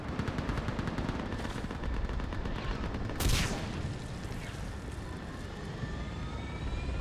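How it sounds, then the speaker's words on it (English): A gunship in Mass Effect flies and fires, a dense rattling burst of rapid gunfire over a loud droning engine, with a sharp blast midway and a rising whine afterward. "Get that gunship moving!"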